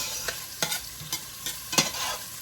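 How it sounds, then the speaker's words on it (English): Garlic sautéing in a pan as part of a lasagna dish. A low, steady sizzle sits under about six distinct spatula scrapes and taps at irregular intervals, with no voices. "I'm gonna add my garlic. And I am going to saute this until the garlic turns golden brown."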